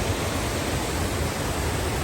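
Peguche waterfall heard from its base, a steady, even roar of falling water that stays constant and moderately loud throughout, without any voices.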